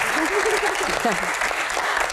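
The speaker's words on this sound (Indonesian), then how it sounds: "tepuk tangan dulu semangatnya dong" An audience claps steadily through a brief stretch of a Q&A event, the applause running beneath a voice that speaks over it.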